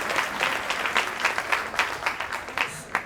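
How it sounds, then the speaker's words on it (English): A large audience at a college all-staff day claps in a round of applause, close and moderately loud, with individual claps audible in a busy, slightly uneven rhythm. "One more big round of applause"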